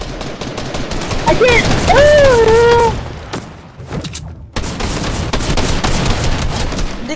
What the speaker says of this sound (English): Everyone, shoot at it! Shoot the mech!